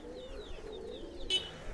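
Pigeons, including a red-winged male and a Teddy female, give soft, low cooing calls in a quiet setting, with a brief sharper chirp near the end.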